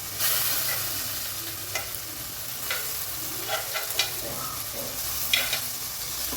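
Onions and tomato being stirred in a frying pan for brinjal sambar, a steady sizzle with soft scraping strokes and occasional clicks of the spoon, close and alone with no talk.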